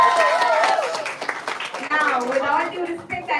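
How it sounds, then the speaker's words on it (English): Audience applause at a staged school event, a dense wash of clapping from a crowd lasting a few seconds, fairly loud and steady with a voice heard over it. "let's give them a big round of applause."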